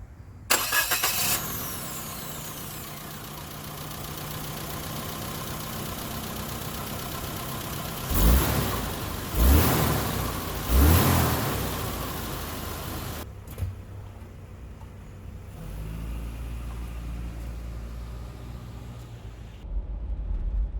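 A 1993 Geo Tracker starts and drives along a road, with steady mid-range engine and road noise, a few louder surges as it accelerates, and a brief drop near the end before the engine picks up again.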